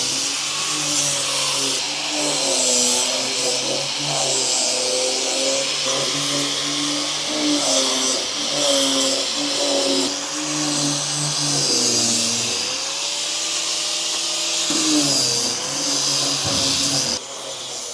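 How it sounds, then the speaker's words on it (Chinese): Power sander working fir wood with a 180-grit disc during window installation, a steady loud whine and drone whose pitch wavers and dips as pressure changes, running continuously and close. "像杉木打磨，一般选择180木的磨片就可以了"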